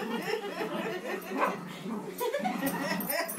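Two dogs play tug with a toy, giving short yips, whines and growly barks up close, mixed with scuffling and light human chuckles.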